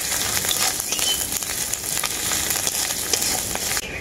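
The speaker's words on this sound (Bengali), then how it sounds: "আদাটাকেও পেঁয়াজের সাথে আমি খুব ভালো করে ভেজে নেব।" Ginger paste fries with onions in a pan for a Bengali lau chingri dish, giving a steady, close, dense sizzle with light crackle and no voices.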